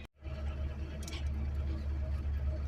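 Car pulling up and coming to a stop on the way to church, heard from inside as a steady low engine and road rumble with a brief door or thump near the start and faint background sounds.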